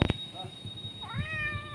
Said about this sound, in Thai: น้องแมวมาร้องรอแล้ว